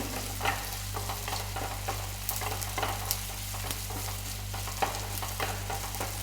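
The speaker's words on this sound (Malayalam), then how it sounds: "നമ്മുടെ മീൻ പൊരിക്കാൻ വെച്ചത് ആയിക്കൊണ്ടിരിക്കുന്നുണ്ട്." Fish sizzles and crackles steadily in oil with scattered pops, a continuous frying sound with a low hum beneath, no voices.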